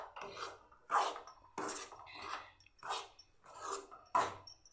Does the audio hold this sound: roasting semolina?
yes